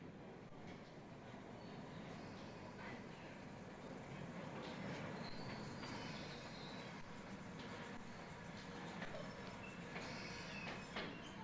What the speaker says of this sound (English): One passing train is specially stopped and takes our party back to Green Park